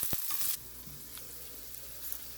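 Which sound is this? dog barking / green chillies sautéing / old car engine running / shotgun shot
green chillies sautéing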